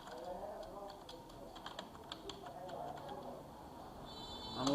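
Keystrokes on a computer keyboard while Bangla text is typed into Microsoft Word, a quick irregular run of light clicks under a faint room hum, ending in a brief louder rustle.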